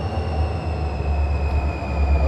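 The new Utica switcher locomotive in the Run8 train simulator gives a steady, loud low diesel rumble with a faint high whine, continuous throughout with no talk.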